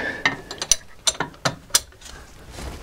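A ratchet wrench tightening a bolt on the rear axle of a Renault Rodius, a quick series of sharp close clicks in short bursts followed by a brief pause of quieter handling.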